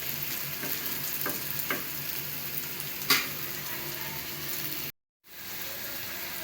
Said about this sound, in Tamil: இது கலர் மாற வரைக்கும் நம்ம ஜஸ்ட்டு திருப்பி போட்டு அது வந்து அப்படியே பொரிக்கணும்.